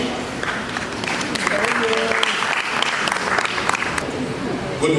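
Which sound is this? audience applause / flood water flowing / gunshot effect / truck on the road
audience applause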